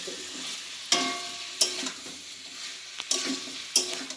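Vegetables being sautéed in a pan, with a soft sizzle and a few sharp spatula scrapes and knocks at irregular intervals, close and moderately quiet, no talking.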